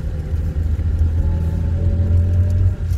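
A Toyota Rush engine labors up a steep incline in second gear, a close, steady low rumble and drone with slight swells in power throughout.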